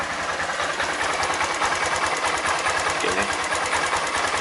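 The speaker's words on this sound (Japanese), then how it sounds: "アイドリングちょっと低いかな、低いけど安定はします。" A used Honda Grom JC61 125cc motorcycle engine idles steadily and a little low, with a continuous, even mechanical chatter close by and a brief spoken remark over it.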